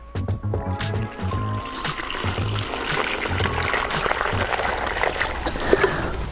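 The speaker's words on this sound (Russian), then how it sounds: "То есть вот перемешали, сейчас добавляем водички." Water is poured into a dry mix of cement and sand for brick-chimney mortar, trickling and splashing steadily over a low rumble for several seconds, with no voices.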